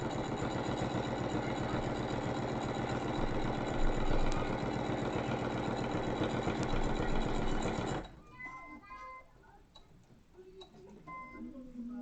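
A sewing machine top-stitches a clutch bag, running as a fast, steady mechanical rattle for about eight seconds. It then stops, leaving quieter handling sounds and a voice.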